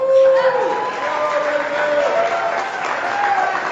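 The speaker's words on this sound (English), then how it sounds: "So let's give a warm round of applause to Benjamin McCall" An audience at an Ignite Cincinnati talk applauds as a speaker is welcomed to the stage, moderate clapping from a room that runs for several seconds with a voice speaking over it.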